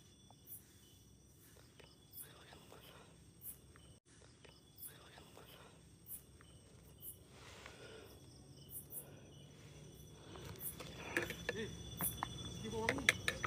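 Crickets chirp in a steady, high, pulsing drone outdoors at night near a rural hut, with faint rustling and quiet whispered voices that grow louder toward the end.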